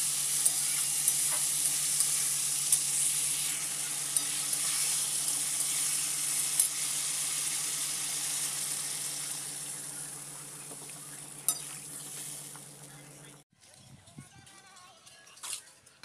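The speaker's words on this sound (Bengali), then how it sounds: "আর একদিকে ঝিঙে আলু মাছের ঝোল তৈরি হচ্ছে।" Ridge gourd, potato and fish curry simmers and sizzles steadily in a pan with occasional stirring clinks, continuous and moderately loud before cutting to a quieter, sparser passage near the end.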